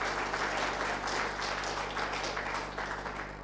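Dense, steady applause from an audience at a minister's announcement of thoroughbred racing returning to the Yarra Valley, loud and continuous throughout with many hands clapping at once.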